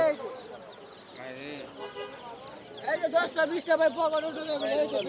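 Chicks cluck and chatter nearby amid busy bustle at the Bottola bird market, Mirpur-14, with people talking over the birds.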